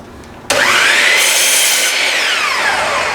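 A power saw bites into a wooden cornhole board and cuts straight across in one loud, continuous, close-up run that starts abruptly after a moment of quiet.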